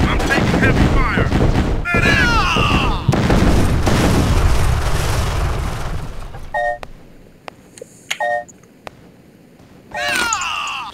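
Heavy gunfire in a video game, a loud sustained barrage of shots and booms with screams and groans that fades out, then scattered beeps and a burst of noise near the end.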